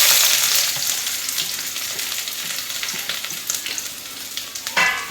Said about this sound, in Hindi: तड़का लगाने के लिए